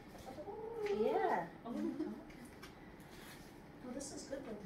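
Chickens cluck softly nearby, a few short rising and falling calls, faint against a quiet outdoor background while a person speaks over them.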